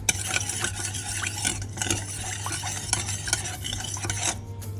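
Glaze of sesame seeds, rice wine vinegar and ginger simmering in a pan, a steady soft bubbling hiss with occasional light stirring clicks and scrapes, close and continuous with no talking.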